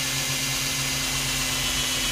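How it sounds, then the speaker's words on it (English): A steady, high-pitched whine of a power drill running continuously through holes in an Asus Zenbook laptop hinge, close up, with a constant mechanical hum underneath and no talking. "I'm just gonna take my drill and slowly go through each hole one at a time"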